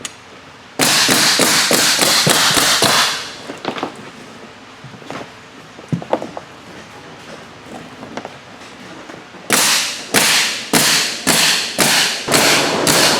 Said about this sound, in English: we're going back now and stapling it.